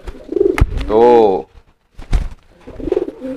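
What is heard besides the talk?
trained pigeon cooing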